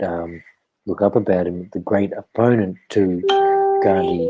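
A short chime from a phone rings out over someone speaking: a sustained tonal notification tone sounds near the end, overlapping his continuous talk.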